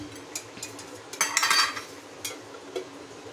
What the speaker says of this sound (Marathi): आता याच्यामध्ये ओलं खोबरं आणि आलं लसूण आणि हे खडे मसाले थोडे भाजून घेते.